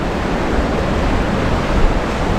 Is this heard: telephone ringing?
no